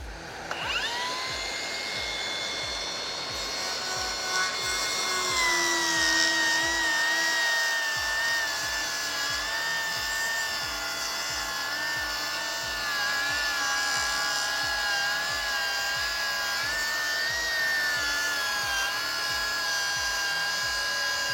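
A Milwaukee plunge saw runs along its guide rail through a cut, its steady high motor whine held loud and close from spin-up to the end with no talking. The pitch sags slightly under load as the blade bites, then holds even throughout.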